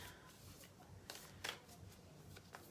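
Soft riffling and flicking of tarot cards being shuffled by hand, quiet and close, with a few sharper snaps.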